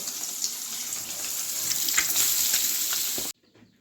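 Eggs rubbed with salt and turmeric fry one after another in hot oil in a wok, giving a loud, steady, close crackling sizzle that cuts off abruptly near the end, leaving only faint quiet noise.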